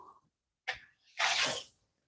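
A single close sneeze: a short sharp intake followed by a breathy burst, alone in a quiet room.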